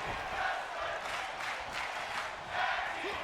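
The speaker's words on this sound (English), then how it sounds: "Incredible resilience, and this crowd is loving it from the Chaos Sisters." A wrestling crowd cheers and roars in a dense, steady wash of noise during a match in a wrestling video game, swelling slightly in a few places.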